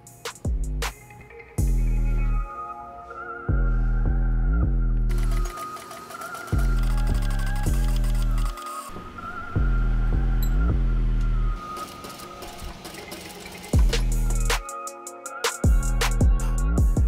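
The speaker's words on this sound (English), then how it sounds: "Then we're gonna head over to the post-bed machine." A post-bed sewing machine stitching tags onto sneaker tongues runs in loud bursts, each run rising in pitch, with short pauses between.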